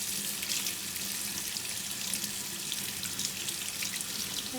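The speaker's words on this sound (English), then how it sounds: "Alright, let me rinse it out." Running tap water pours steadily over a felted wool mushroom as it is rinsed under the faucet, a continuous close splashing hiss with no talk.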